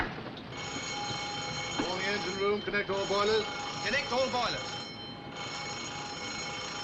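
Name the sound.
warship alarm sounding for action stations, from a film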